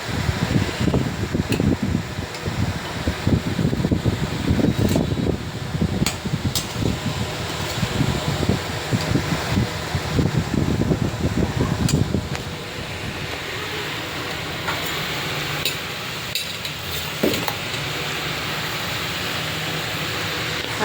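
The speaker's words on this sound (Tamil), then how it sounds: "இது வந்து வால் மவுண்டட் ஃபேன் தானே," A wall-mounted electric fan runs in a kitchen with a steady, full whooshing hum. Louder clattery noise rides over it for the first twelve seconds, then the fan carries on alone at an even level.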